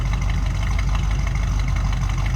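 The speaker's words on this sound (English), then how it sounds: "A little rumble coming out of that 350." The 350 V8 engine of a 1955 Chevrolet 3100 pickup idles with a steady, deep rumble, close and continuous throughout, with no voices.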